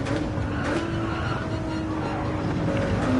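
A race car in a racing video game braking hard for turn 1 at Road Atlanta: a continuous engine roar with brief tyre squeal, steady and fairly loud throughout.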